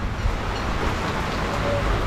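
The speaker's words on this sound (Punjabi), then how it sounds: "ਹੁਣ ਮੀਂਹ ਨੇ ਰਫਤਾਰ ਫੜ ਲਈ ਆਪਦੀ" Heavy rain pours down steadily on a farm, a dense, even hiss with no pauses and no talking.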